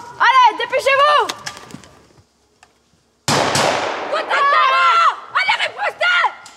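Gunfire rings out during a French military training exercise, with a burst of sharp, close blank shots after a brief silence, while people shout commands loudly before and between the shots.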